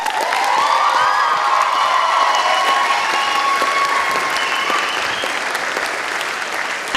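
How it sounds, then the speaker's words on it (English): A school audience applauds a choral department teacher with loud, sustained clapping and scattered whoops and cheers, a dense steady wash that fades slightly toward the end. "we all give a huge round of applause to Mr. Spalding"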